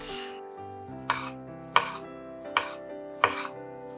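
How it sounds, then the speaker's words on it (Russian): Knife slicing tomatoes into thin rings for a chicken dish, with four crisp, separate cuts against a board over soft background music. "1 или 2 помидора нарезаю тонкими колечками."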